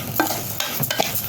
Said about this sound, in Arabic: نقلب البصل كده